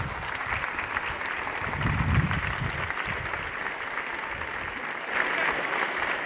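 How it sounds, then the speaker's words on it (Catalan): Audience applause at an outdoor rally in the Mercadal marking the first anniversary of 1 October, steady clapping from a sizeable crowd that swells briefly around the middle and again near the end, with no talk over it. "un aplaudiment per la Sara i també per extensió per tot Mont-roig"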